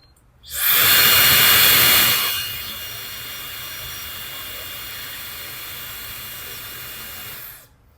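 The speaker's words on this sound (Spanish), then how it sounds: "Vamos a prenderla. Creo que este es con el encendido." A GOOJODOQ barber hair dryer switches on with a loud burst of rushing airflow and motor whine, then drops to a steadier, lower setting that runs for several seconds before shutting off.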